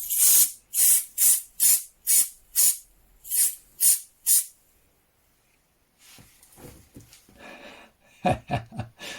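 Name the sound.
compressed air can spraying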